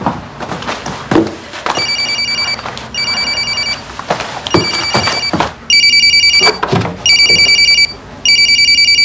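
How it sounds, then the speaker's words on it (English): A telephone rings in repeated bursts of bright trilling bells, each burst followed by a short pause, sounding loud and close in an otherwise quiet room with a few soft thumps. "Karen, is it your phone?"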